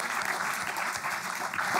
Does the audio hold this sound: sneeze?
no